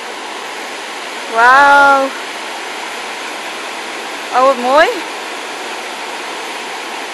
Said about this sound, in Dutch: Ik denk dat we hier de waterval kunnen zien.